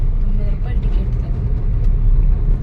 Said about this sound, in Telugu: చూడండి ఇక్కడ నుంచి ఆటోలు వెళ్తూనే ఉన్నాయి